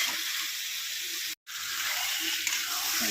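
Water poured into a pan of ridge gourd and rohu fish curry, a steady broad hiss of pouring and sizzling throughout with one brief break midway, no talk.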